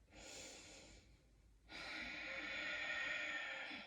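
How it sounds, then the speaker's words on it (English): Deep, slow breaths taken during a power yoga flow: a long inhale, a brief pause, then a longer, steady exhale, close and fairly quiet. "So take one more breath."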